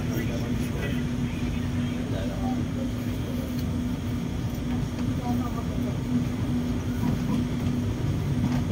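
An LRT light rail train in Manila rumbles steadily along the track with a low mechanical hum, heard from inside approaching Baclaran Station, while people talk quietly in the background.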